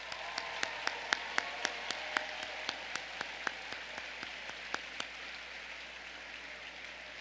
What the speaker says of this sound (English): Please join me in a round of applause for today's organizers